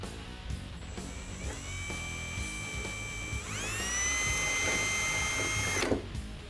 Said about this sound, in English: Let's drill through these 2 marked holes.